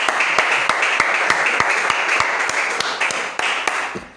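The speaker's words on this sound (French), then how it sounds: "Applaudis pour toi-même." A room full of people applauding at a gathering, with sharp, evenly spaced claps ringing out over a dense wash of clapping that fades slightly toward the end.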